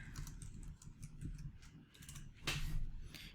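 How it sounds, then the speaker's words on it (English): Quiet, close keystrokes on a computer keyboard in short irregular bursts, with a louder cluster of clicks near the end and no talking. "So I'm going to type in, you've got a new lead"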